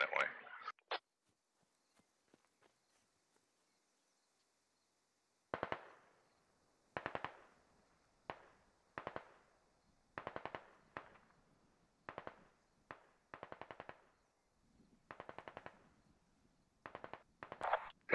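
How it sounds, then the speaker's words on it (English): Bursts of gunfire in the tactical shooter game Squad, with short rapid volleys of automatic fire repeating at irregular intervals after a quiet opening, sharp and fairly close, no talk over them. "They're shooting at you"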